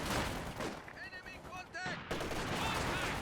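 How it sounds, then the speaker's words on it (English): An MG-34 machine gun fires in Company of Heroes 2, a dense run of loud rapid gunfire under game battle noise, with brief whistling tones partway through before the shooting resumes. "MG-34 reset up here, will suppress that squad, no problem."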